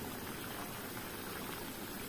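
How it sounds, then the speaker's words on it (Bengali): Curry sauce for katla fish bubbles in a pan, a soft continuous simmering hiss with faint gurgling, quiet and steady throughout with no voices. "দেখুন কেমন টকবক করে ফুটছে।"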